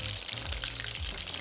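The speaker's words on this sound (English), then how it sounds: "Now we'll heat up the oil to 400 degrees Fahrenheit or 200 degrees Celsius for our second fry." Steady, dense crackling and sizzling of chicken wings deep frying in oil heated to 200°C for a second fry, close up, with a low hum and some bubbling underneath.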